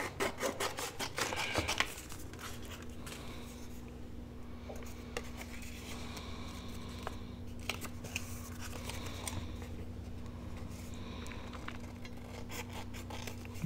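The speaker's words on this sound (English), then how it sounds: "So I'm just going to trim this off." Scissors snip and scrape through paper while trimming a handmade envelope journal page, a few close crisp cuts at the start followed by quieter rubbing and handling over a steady low hum.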